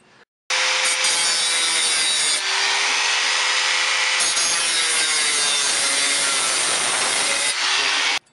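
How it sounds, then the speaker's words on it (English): An angle grinder cuts a hole into a metal can to make a hobo stove, a loud, harsh continuous grinding and rasping that runs in two long passes with a brief change in pitch between them, close up. "I'm going to use my angle grinder."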